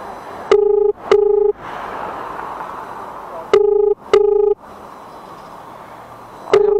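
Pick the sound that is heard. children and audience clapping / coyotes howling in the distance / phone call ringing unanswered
phone call ringing unanswered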